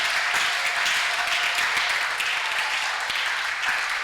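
A church congregation claps during a prayer service, steady rhythmic applause with occasional sharper individual claps, moderately loud and continuous for about four seconds with no talking.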